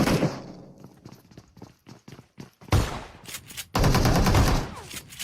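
Gunfire in a shooter video game: a run of sharp, separate shots that gives way to dense, loud bursts of rapid automatic fire, close and full, with no voices over it.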